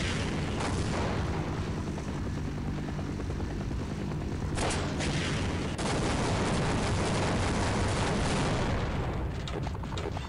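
Continuous enemy gunfire and explosions in Half-Life 1, a dense roar of shots and blasts sustained for several seconds at loud, steady intensity, with sharper bursts punching through midway.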